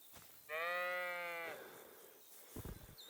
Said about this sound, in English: Leave that poor sheep alone.